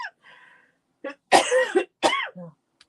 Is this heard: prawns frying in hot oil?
no